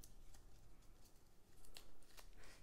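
Backing being peeled off tear tape for a sunflower gift box, a quiet close crackly stripping with short bursts of ripping sounds, very faint overall.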